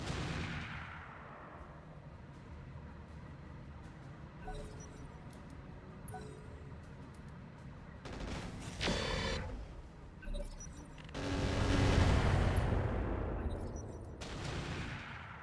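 Turrets and mortars fire in the Roguetech mech battle game, a run of booming shots and rumbling blasts that swell into heavier, denser bursts in the second half, with no voices.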